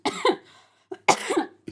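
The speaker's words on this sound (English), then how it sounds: "My cough is getting better though." Two harsh bursts of coughing, each a short cluster of rough hacks separated by a brief pause, close to the microphone with no other talk.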